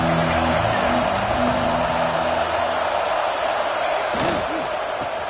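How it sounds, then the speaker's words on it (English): A stadium crowd in an American football video game gives off a loud, steady roar throughout, with faint voices mixed into the din. "This crowd ready to make its presence known."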